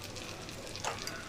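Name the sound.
snacks frying in oil in a pan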